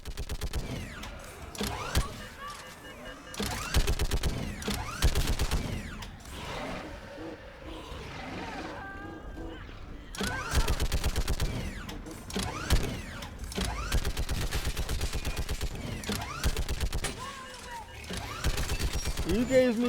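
A mounted gun in the video game Mass Effect 3 fires in heavy repeated bursts with short pauses, loud and close amid battle noise and mechanical clatter.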